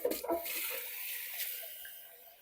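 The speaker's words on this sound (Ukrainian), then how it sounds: "Далі ми дольємо трішечки води" Water splashes and pours into a clay pot with a brief gush, then trickles down to a softer, steady hiss, close by and moderately loud.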